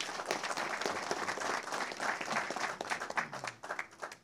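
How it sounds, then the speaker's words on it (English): A crowd applauding steadily, dense clapping filling the room for several seconds before tapering slightly at the end. "So please give Jennifer a warm round of applause as she comes up."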